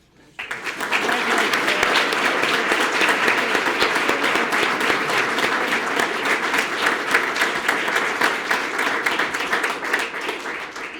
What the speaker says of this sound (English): I think they all deserve another round of applause